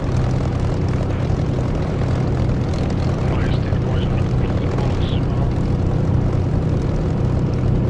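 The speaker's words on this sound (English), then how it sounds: "We have an engine running." Propeller aircraft engine running in the DCS flight simulator game, a loud steady drone that holds constant throughout with no voices over it.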